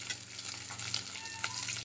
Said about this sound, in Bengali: এই যে প্রথমে মাছটাকে লাল করে ভেজে নিচ্ছি।